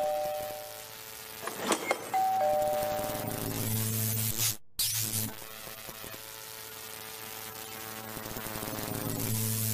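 A bell-like ding rings out and lingers with a humming, buzzing tone, cut by a brief silence, then the ringing hum resumes steadily.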